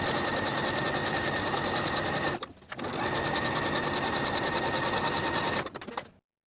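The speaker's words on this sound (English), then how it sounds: "Use your preferred stretch stitch and do this for both back pant legs." Sewing machine running steadily while top stitching the back legs of pull-on pants with a stretch stitch, close and loud, with a brief pause midway before it stops.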